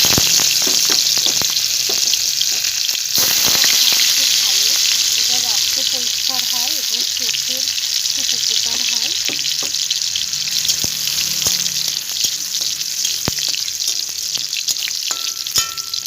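Chopped garlic sizzles in hot oil in a wok while taro greens are cooked, a loud, dense, steady frying hiss with scattered crackles throughout.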